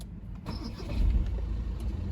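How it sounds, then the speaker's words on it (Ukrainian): A 2019 VW Tiguan R-Line with a 2.0 TDI diesel starts up nearby, its brief crank settling into a steady low engine hum with no talking. "Заводиться без проблем"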